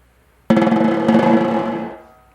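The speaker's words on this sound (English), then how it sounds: "So I'm going to play a right-handed buzz, then a left-handed buzz." Snare drum played as a soft buzz roll, a right-hand buzz followed by an overlapping left-hand buzz, sounding as one sustained rattling press about a second and a half long that swells once and then fades out, close and alone.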